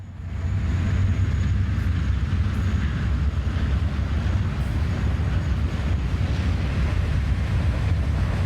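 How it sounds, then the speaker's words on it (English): A fast-moving northbound CSX ballast train with five locomotives rushes past. Its deep, continuous rumble and roar hold steady and fairly loud for the whole stretch, with no voices. "a fast-moving northbound CSX ballast train heads for the mountain"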